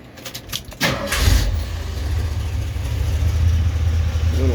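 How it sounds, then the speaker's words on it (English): A 1975 Jeep CJ5 with a roller 302 V8 from a late-model Mustang and loud mufflers cranks briefly, then fires and settles into a deep, rumbling cold idle close by. "Got a roller 302 motor out of a late model Mustang. We'll fire it up here."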